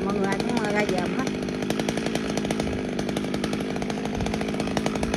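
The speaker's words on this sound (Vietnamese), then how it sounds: "Nên anh Hiền với anh Kiệt tới cưa thì mọi người ai cũng ra giờ hết" A chainsaw cuts into an old, overgrown Gừa bush in an abandoned garden, its engine snarling loud and close with rapid chain rattle and slight shifts in pitch as it bites into the wood.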